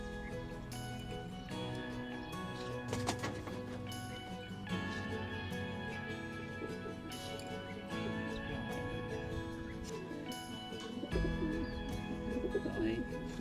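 Racing pigeons coo in a loft while their rings are fitted, soft repeated cooing and bird calls over a steady background hum, with occasional louder bursts.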